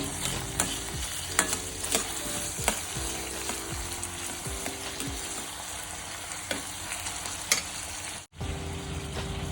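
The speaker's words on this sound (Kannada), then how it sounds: "ಸಣ್ಣ ಸಣ್ಣ ಈರುಳ್ಳಿನ ನಾನು ಸಣ್ಣದಾಗಿ ಕಟ್ ಮಾಡ್ಕೊಂಡಿದ್ದೀನಿ ಈಗ ಇದು ಸ್ವಲ್ಪ ಫ್ರೈ ಆಗಬೇಕು" Finely chopped onions fry in a pan with a constant close sizzle, while a spoon repeatedly scrapes and stirs through them with no talking.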